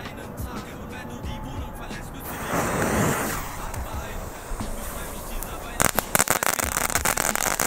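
A full pack of Knatterfritze firecrackers set off for New Year's Eve, with a loud hiss of ignition followed by a rapid burst of sharp crackling pops close by. Someone speaks briefly before the crackling starts.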